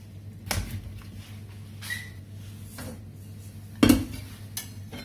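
A pan is moved on a kitchen hob while making banana wine, a few faint metallic scrapes and one louder clunk against a quiet background hum, with no speech.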